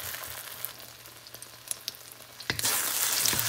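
Tomato and scrambled egg stir-fried in a pan give a faint, steady sizzle with scattered small crackles and pops, then a sudden louder hiss near the end as something is added, heard close with no talking.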